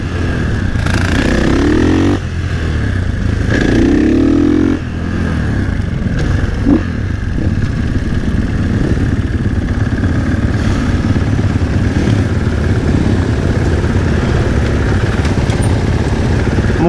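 A supermoto motorcycle engine, still cold after sitting half an hour, runs steadily and loudly at a race meeting at Harzring, idling with a rough, throbbing rumble and a couple of brief revs near the start.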